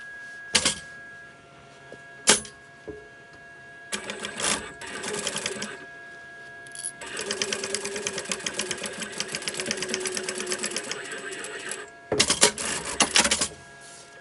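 A sewing machine stitches a quilted, lined crossbody backpack in several bursts of steady rapid whirring, with a long continuous run in the middle and short starts before and after, close and moderately loud with no talk.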